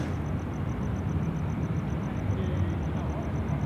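An airliner rolls at night on runway 34 left at Sydney Airport, heard as a steady, unbroken jet roar at moderate distance with a faint, regularly pulsing high tone above it.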